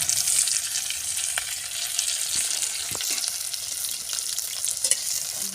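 Stuffed eggplant (ukad bharli vangi) with masala and coriander being stirred in a pan, soft sizzling and frying hiss with scattered light scraping taps of the spoon, close and unaccompanied by voices.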